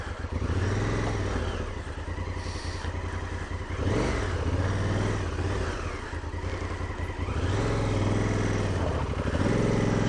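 Honda Africa Twin CRF1000L adventure motorcycle on an off-road trail, its rear wheel spinning on moss: a loud, close engine drone rising and falling in repeated revving surges with no pause.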